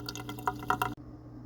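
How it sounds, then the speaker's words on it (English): Water from a newly installed reverse osmosis filter drain runs and splashes in a brief, faint burst of trickling and dripping, then cuts off abruptly. "that's the water coming out of the drain"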